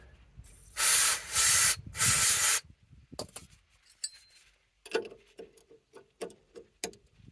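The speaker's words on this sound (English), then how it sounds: "keep spraying it" Three loud, steady bursts of aerosol spray hit a Mercedes S210 ball joint, each lasting under a second with short gaps, followed by faint clinks and taps of metal work nearby.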